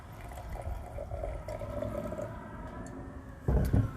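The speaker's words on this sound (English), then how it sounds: "today, we're going to be tasting the 2017 Skinner Mourvedre from El Dorado County. Now, let's pour." A 2017 Skinner Mourvedre red wine from El Dorado County being poured into a glass, a soft, steady liquid gurgle that runs quietly before a brief louder splash near the end.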